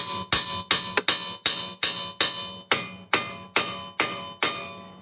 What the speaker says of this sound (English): just hammer that down like that,